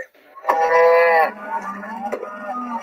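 Cattle on a California cattle ranch give a loud, close moo lasting under a second, followed by a softer, lower drawn-out call.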